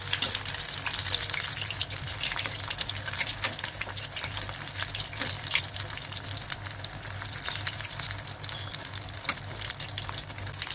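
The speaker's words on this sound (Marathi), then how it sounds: "आपलं तेल तापलेलं आहे, त्यामध्ये आपण केलेले रोल सोडूया. आपण मीडियम गॅसवर तळून घेणार आहे ते." Matar (green pea) rolls deep-frying in hot oil over medium heat, a steady dense crackling sizzle that carries on without a break, with a low hum underneath and no voices.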